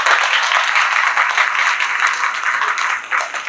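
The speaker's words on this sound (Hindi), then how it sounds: "बजाओ ताली।" Crowd applause at an award night celebration for a healthcare company, steady dense clapping from many hands, loud and sustained with no talk over it.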